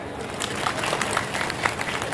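Audience applause at a live comedy show during Hamirpur Mahotsav, a steady wash of many hands clapping that rises and falls over about two seconds, with a voice faintly audible underneath.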